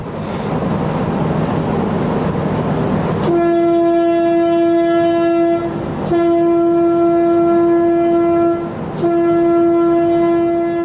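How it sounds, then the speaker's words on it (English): The trawler Geberg, formerly the Russian vessel Anatoly Guganov, sounds a long, loud, rich-toned whistle as it sinks in the Norwegian Sea, rising out of rumbling noise and holding steady with two brief dips, close and dominant. "The final whistle was like a farewell, dedicated both to the crew who survived and to the sea"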